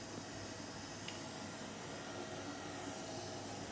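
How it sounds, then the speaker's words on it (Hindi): A vacuum cleaner runs with a constant, even roaring drone, unchanging throughout. "वैक्यूम की आवाज़ बिल्कुल जैसे धरती पे उतर आया हुआ हेलीकॉप्टर"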